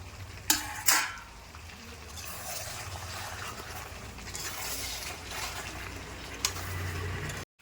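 Chicken, potatoes and eggs tumble into a cooking pot with a couple of loud metallic clanks up front, then a steady frying sizzle with lighter clatter and a final knock, no talking.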